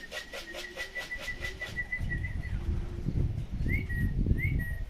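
Racing pigeons landing at a home loft after a 342 km race, with nearby wing flaps, soft coos and whistled calls over a low outdoor rumble, in short bursts.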